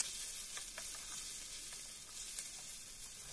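Mashed boiled potato with spices fries in a pan, giving a steady quiet sizzle with faint scraping stirs scattered through, no voices.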